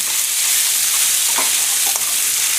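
Cooked carrots and green beans are mixed into a hot tempering in a pan, a loud, steady close-up sizzle with a few brief scraping strokes from a spoon.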